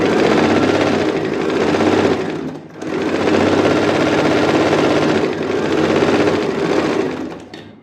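A sewing machine stitching a coat-style blouse collar, running in a loud steady whirring rattle, briefly pausing, then continuing before slowing to a stop near the end.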